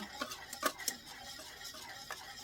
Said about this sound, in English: Now you're going to add 1/2 cup of brown sugar. And you're going to continue whisking.